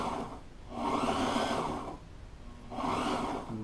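A sewing machine stitching boat backrest upholstery runs in two long steady whirring bursts with a short pause between them, close and moderately loud, with no talking.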